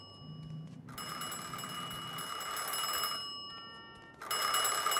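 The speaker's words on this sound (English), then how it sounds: "Answer the phone." Telephone ringing in the video game Mafia II, an old-style bell ring heard in two long bursts with a pause between them, with a faint low hum underneath and no talking.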